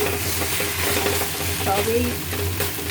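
Taro leaves (kochu shak) being stirred in a pan while their water cooks off, giving a dense, continuous sizzle with soft stirring scrapes, close and steady with no talk.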